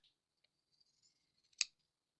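Scissors snip through paper ephemera for a journal kit, giving a few faint light clicks and then one sharp, close cut, with no talking.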